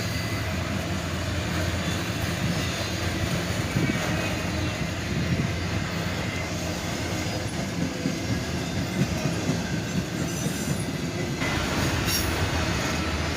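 A long CSX auto rack freight train, led by a Dash 8 locomotive, rumbles steadily past nearby, with continuous wheel noise, rail clatter and occasional faint squeals, no voices.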